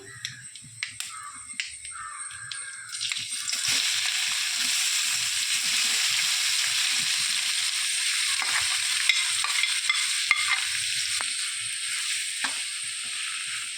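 Crushed young jackfruit hitting a hot pan of browned aromatics for Kerala thoran: a few scattered clicks, then a steady, close hiss of frying with occasional ticks from stirring.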